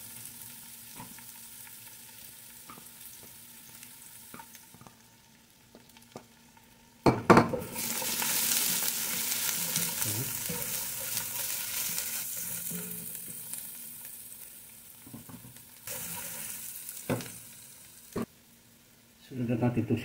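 Garlic hits hot olive oil, about three tablespoons, with a sudden loud sizzle that keeps up steadily under occasional stirring and light pan clinks, while a voice talks intermittently nearby.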